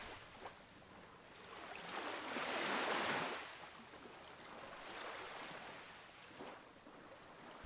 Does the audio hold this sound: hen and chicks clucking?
no